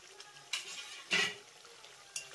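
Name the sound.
stirring fried potatoes into cooking spice mix in a pan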